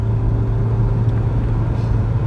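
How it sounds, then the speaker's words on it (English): A car passes from the opposite direction on a country road, heard from inside a moving car as a steady low engine and road rumble with a faint swell. "Oh no, car's coming the other way"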